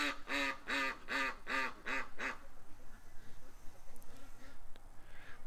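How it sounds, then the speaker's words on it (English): Ducks being nursed back to health quack loudly and close, six rapid calls in a row, then only faint rustling and scattered small sounds remain. "The hospital ducks."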